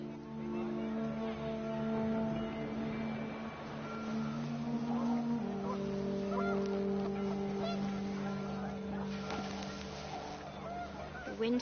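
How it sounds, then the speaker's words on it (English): Panicked geese honk in a windy outdoor scene in What Remains of Edith Finch, a steady stream of nasal calls at moderate level over a droning musical bed, with a busier burst of honking near the end. "The wind picked up, and panicked geese appeared and quickly went."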